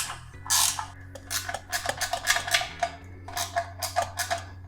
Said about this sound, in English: So we'll just get these screws backed off so we can slide it.